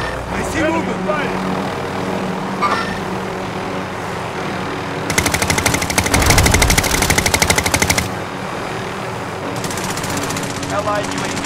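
Sustained automatic machine gun fire in the Call of Duty: Modern Warfare video game, a loud rapid burst of several seconds standing out from a dense, noisy battle background with game voices.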